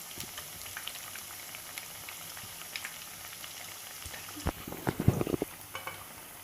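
Valapoo vadai frying in oil over a medium flame, giving a steady soft sizzle with scattered pops, and a burst of louder bubbling and clatter near the end.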